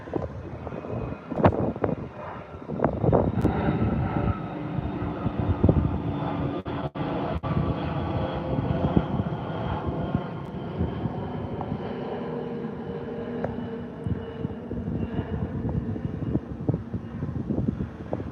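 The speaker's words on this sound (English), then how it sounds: "Oh, let's let this plane land." An airliner landing on runway 09L at Heathrow gives off a long, low, rumbling roar mixed with gusty wind buffeting on the microphone, steady throughout, with no talking.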